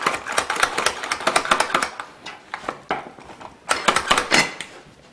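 A knife chops food on a cutting board for manicotti filling, rapid sharp taps in quick bursts with a short pause midway, close and crisp, no voices.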